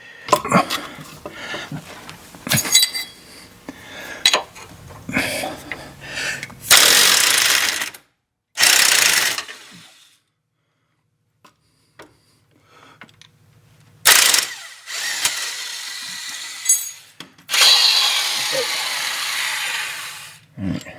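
A 15 mm wrench holding a bolt while a 13 mm socket loosens it on a 2011 Ford Fiesta's lower control arm, with loud close ratcheting bursts, metallic knocks and clanks broken by short quiet gaps, no talk.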